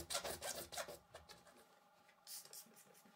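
Acrylic glass is sawn by hand, producing a rapid, raspy back-and-forth scraping in close strokes that pause briefly and then resume more softly.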